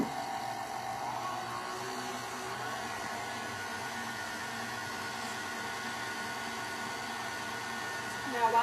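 An electric mixer whirs steadily on low speed through chocolate cake batter made with vanilla extract and evaporated milk, a constant close hum in a kitchen with no break.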